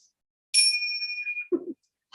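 A bell rings once during a poetry reading, a bright sustained ding that fades over about a second, followed by a brief low knock as it is set down; nothing else sounds.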